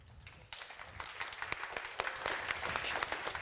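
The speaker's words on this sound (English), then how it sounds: "So please give a round of applause to the observer of Cosmos" Audience applause for a speaker introduced at the Gateway conference, steady broadband clapping that builds slightly over a few seconds, with no talk over it.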